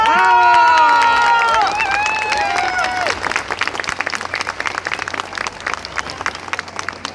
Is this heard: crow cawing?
no